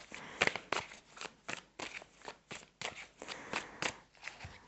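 Tarot cards are shuffled and flicked down in a quick, steady series of crisp snaps and rustles, close and fairly quiet, with no talking.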